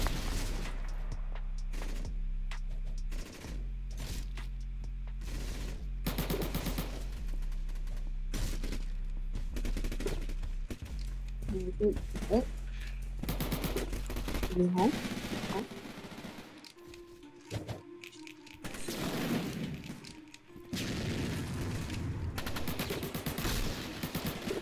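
Rapid bursts of PPSh submachine gun fire ring out in the Roblox-style game Jailbird Remastered, loud repeated volleys with short pauses between them and a player talking over some stretches.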